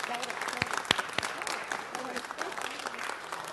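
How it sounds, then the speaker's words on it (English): A room of people applauding at a city council meeting, a spread of claps with a few sharper ones standing out, mixed under a person speaking. "Let's give them a round of Executive applause."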